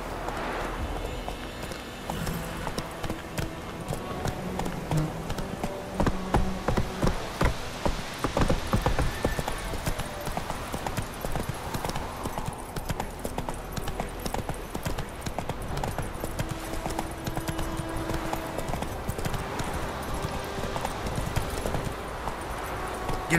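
A horse trots in The Witcher 3, a steady clip-clop of hooves running continuously under game music and ambience, fairly close and even throughout.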